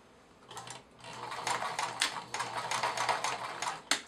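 A sewing machine stitching face mask fabric laid over a small piece of paper, its needle rattling in quick, close bursts with short pauses between runs and a final sharp click at the end.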